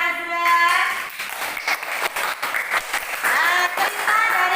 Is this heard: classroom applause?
yes